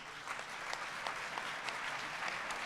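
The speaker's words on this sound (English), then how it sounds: "Can we get a round of applause in advance for our candidates?" Applause from an audience at an evening mayoral candidates' forum on a Boston campus, steady and sustained with dense crowd clapping throughout.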